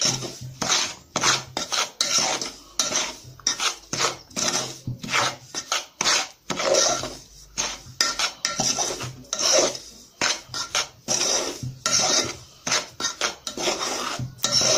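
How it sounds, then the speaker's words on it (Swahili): Salt and soap are mixed together in a container, repeated rhythmic scraping and rasping strokes with clinking, close and loud, continuing steadily without talk. "Halafu changanya vizuri chumvi na sabuni"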